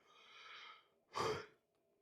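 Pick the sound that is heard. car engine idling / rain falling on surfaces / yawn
yawn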